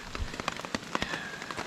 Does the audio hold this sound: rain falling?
yes